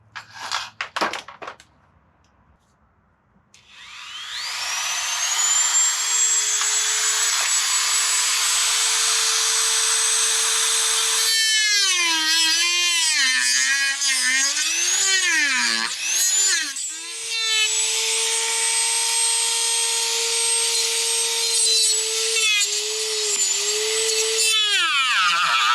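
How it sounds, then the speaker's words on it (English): Dremel rotary tool grinding motorcycle parts on a Husqvarna Vitpilen, a high steady whine that spins up after a few clicks, dips and wavers as it bites into the metal, then settles again, close and loud, with no talking. "Dremel."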